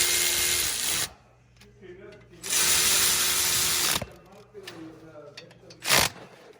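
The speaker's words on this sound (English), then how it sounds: "we're going to tighten it up, like I said, with the ratchet breaker part" Ratchet tightening speed sensor bolts on a Chevy Tahoe or Silverado, heard as loud, close bursts of rapid clicking separated by pauses, with talking in the gaps.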